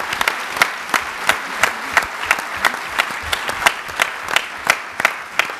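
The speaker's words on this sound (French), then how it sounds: "on peut les applaudir évidemment" An audience at a CESE civic forum applauds a round of testimonies with steady, crisp clapping, the individual claps distinct and evenly spread throughout.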